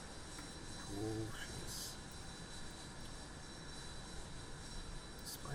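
An Antonov An-225's engines in Microsoft Flight Simulator make a constant, even broadband drone, with a brief spoken remark early on.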